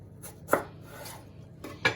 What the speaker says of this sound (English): I'm just going to do really fine, thin slices like this